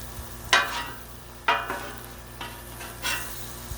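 Bacon and vegetables on a Blackstone griddle give four scraping, clattering strokes of a spatula about a second apart over a faint steady sizzle.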